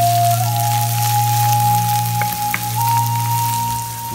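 Onions fry in oil beside browned garlic, a loud, steady sizzle set over a constant low hum and a thin whining tone, with a few small stirring clicks.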